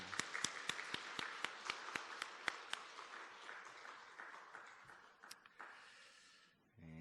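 A church congregation claps for the choir, with many sharp, evenly spaced claps that blur into a rolling applause before fading out, heard from a moderate distance in a reverberant hall.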